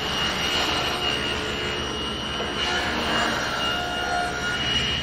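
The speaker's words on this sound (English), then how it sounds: "To make the triangles, I'm going to start out by ripping a board to 2 1/16 of an inch wide." A table saw rips a cherry board into a narrow strip, a steady loud whine with a dense broadband roar running unbroken for the whole span, close and without talk.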